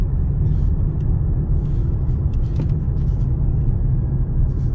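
2022 Ford Explorer ST cruising on the road, a low steady engine and road rumble heard from inside the cabin, constant and moderately loud.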